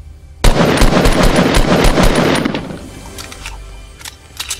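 Automatic gunfire in the video game Fortnite: a loud, rapid burst of shots for about two seconds, then a few scattered sharper shots as the burst fades.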